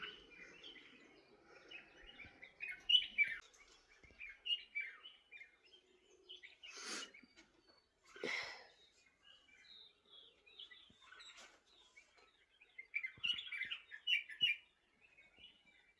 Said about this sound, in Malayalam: നിറയെ കിളികൾ വന്നു തുടങ്ങി.